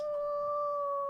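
A steady, sustained wolf howl in The Long Dark, holding one clear pitch throughout, moderately loud with no voices.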